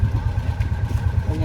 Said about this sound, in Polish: Silnik odpalił.